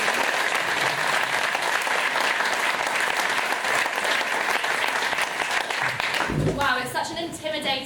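Large crowd at a protest rally for Palestine bursts into loud, sustained applause, with dense clapping filling the space before it fades near the end under a single voice starting to speak.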